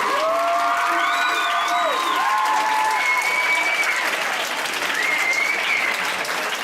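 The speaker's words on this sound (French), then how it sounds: "On peut l'applaudir." Applause from a studio audience greets the final woman participant at a head-shaving event, steady dense clapping with some cheering and whoops, while a voice and higher tonal sounds carry over it throughout.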